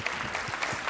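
A brief burst of audience clapping for Ranveer Singh, Kapil Dev and Kabir Khan at a film event, dense and continuous across the moment.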